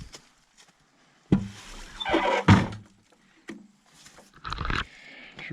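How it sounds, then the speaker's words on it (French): Heavy wooden cabin door pushed open in a forest setting: a loud thunk followed by creaking and scraping of the door, then a second bump and a further scrape, close by with quiet pauses between. "Voyons, on va pousser la porte."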